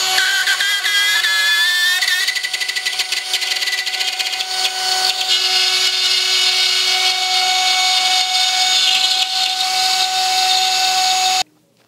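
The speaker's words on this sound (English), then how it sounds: "I'm going to cut the hole in the wall using this rotary saw by Ryobi." A Ryobi rotary saw cuts a hole through an indoor wall, giving a loud, steady high-pitched whine with grinding texture that runs almost unbroken for about eleven seconds before cutting off abruptly.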